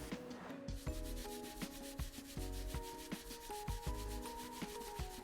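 Steady close rubbing and scrubbing while a vintage object is cleaned, a continuous run of rhythmic scraping strokes with no voices.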